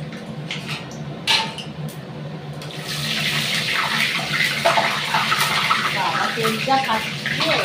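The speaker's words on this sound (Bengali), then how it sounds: "কুচিটার মধ্যে জল ছিল বলে তেলে একটু হয়তো খটখট আওয়াজ হচ্ছে" Panch phoron spices crackle and sizzle in hot oil with a little water from chopped ingredients, a broad steady hiss that swells after a few seconds while someone talks nearby.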